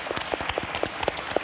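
Applause at a formal ceremony marking 75 years of the UN human rights declaration, heard as a scattered run of distinct claps with a soft crowd wash behind them and no voices over it.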